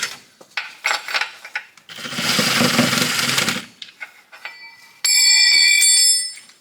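Metal wrench work on a 9/16 bolt at the dipstick tube of a Jeep WJ's 4.0 engine during a swap: a run of scraping, clicking ratchet strokes, a broad rasping stretch, then a bright metallic ringing tone, up close with no talk.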